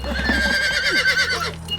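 A horse neighs loudly and close in a brutal battlefield siege scene from a film, a shrill quavering whinny over the clatter of hooves, lasting under two seconds.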